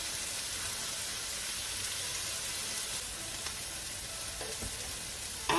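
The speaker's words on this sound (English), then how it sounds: "Add garlic, 3 cloves minced, 1 inch ginger" Minced garlic and ginger sizzle in a pan during a beef stir-fry, a soft steady hiss of frying that stays even throughout, with a light clatter near the end.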